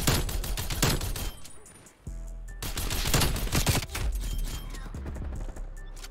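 A DMR 14 marksman rifle in Call of Duty: Black Ops Cold War fires in rapid semi-automatic shots, loud and closely spaced, with a short pause partway through before the quick firing resumes.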